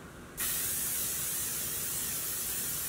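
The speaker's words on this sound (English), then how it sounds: "This is the L'Oreal Infallible 3-Second Setting Mist. This is supposed to have up to 36-hour wear, and it's an aerosol." A L'Oreal Infallible 3-Second Setting Mist aerosol sprays one fine, steady hiss close by, starting abruptly after a brief quiet moment and continuing unbroken to the end.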